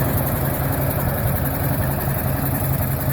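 An old John Deere 720 two-cylinder tractor runs steadily with a low, rhythmic engine throb and broad mechanical noise, close and continuous with no speech.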